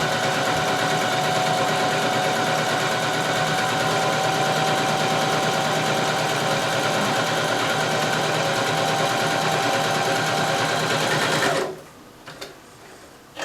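Sewing machine fitted with a gathering foot stitching fabric, a loud, steady, close mechanical whir running unbroken for about eleven seconds and then stopping abruptly, leaving near silence.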